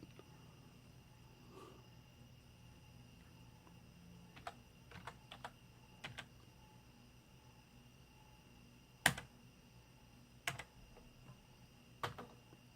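Scattered keystrokes on a computer keyboard, a few isolated clicks and short bursts of taps spread over a quiet room background, fairly faint and close with no talking.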